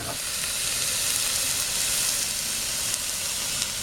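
Top round steak, salted, sears in a hot pan with a steady, close hiss and sizzle that holds evenly throughout, with no talking.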